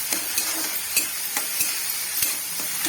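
Tomato and grated coconut fry in a pan with a steady close sizzle, punctuated by regular scraping strokes of a spoon stirring the mixture, with no voices.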